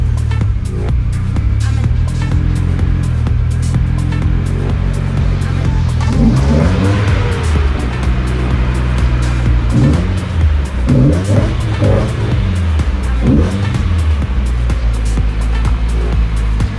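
A Nissan Silvia's engine runs steadily up close, then revs rise and fall as the car pulls away and drives off, loud and continuous with no talking.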